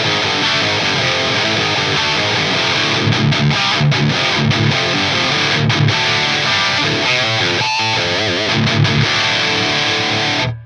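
High-gain electric guitar played through an Axe-Fx III with boosted mids around 1K and 2K, a dense, heavily distorted riff sounding continuously and loud with brief choppy stops.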